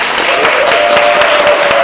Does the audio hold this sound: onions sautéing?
no